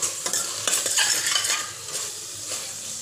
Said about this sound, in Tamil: இப்போ இது எல்லாத்தையும் ஒரு வாட்டி நல்லா கலந்து விட்டுக்கலாம்.